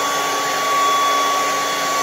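A hair dryer blows a steady, loud, unbroken whoosh while drying a man's beard, with no voices over it.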